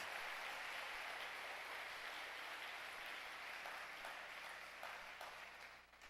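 A church congregation claps and applauds, a dense, steady wash of many hands filling the room before gradually thinning toward the end.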